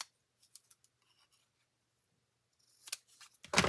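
Scissors trimming a paper strip for a handmade card, giving a few soft snips close up, then a brief quiet and a final pair of sharper cuts.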